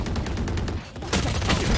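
Rapid gunfire from a weapon in the shooter game Valorant, a dense run of close, loud shots that keeps going, with a brief dip in the middle before the firing picks back up.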